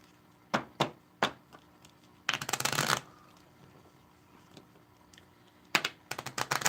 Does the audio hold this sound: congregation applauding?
no